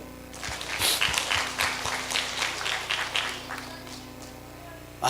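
A church congregation claps together during a Sunday service, a spread of sharp hand claps rising quickly and fading over several seconds, with a faint voice now and then beneath.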